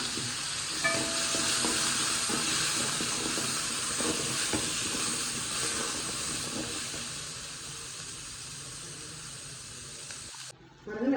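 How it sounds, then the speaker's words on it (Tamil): Garlic and onion sautéing in a hot pan for a chutney give a steady, loud hiss and sizzle with scattered stirring clatter, running with no talk until it drops out abruptly near the end. "பூண்டு போட்டு நல்லா ஒரு வதக்கு வதக்கணுங்க பாருங்க வெங்காயத்தை போட்டுக்கலாம்"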